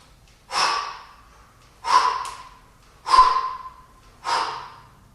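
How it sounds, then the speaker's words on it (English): Heavy, forceful breaths from a rowing-style exercise of bending forward and coming back up, four sharp bursts roughly a second apart, close and loud. "The breathing pattern, inhale, when I bend forward,"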